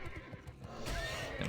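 A horse neighs in World of Warcraft, a loud whinny that rises sharply near the end of the second-long burst over steady game background sound.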